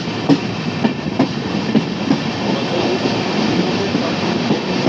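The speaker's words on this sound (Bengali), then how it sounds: "আমাদের ট্রেন কিন্তু জলপাইগুড়ি রোডে ঢুকে গেল" The Humsafar Express rolls into Jalpaiguri Road station, wheels clacking over rail joints in a steady rhythm, loud and close with a continuous rumble.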